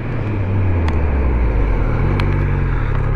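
A Triumph Speed Triple 1200 motorcycle brakes hard from 70 km/h, giving a steady, loud engine and road roar that stays constant through the short stretch, with faint brief ticks above it.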